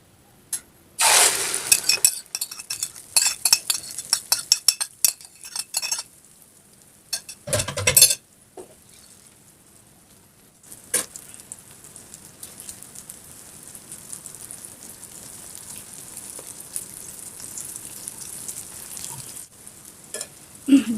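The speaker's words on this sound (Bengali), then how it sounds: "তেলটা গরম হয়ে গেলে এর মধ্যে ডিমের মিশ্রণটা দিয়ে দেব।" Egg and flour batter frying in hot oil in a pan, with bursts of utensil clinks and clatter at first, then a steady faint sizzle building through the second half, mostly without voices.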